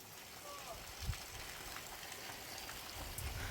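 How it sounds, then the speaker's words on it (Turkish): Steady rain patters down in a continuous hiss, with a few louder drops landing close by and a voice speaking faintly in the background. "Çok güzel yağmur yağıyor canlar."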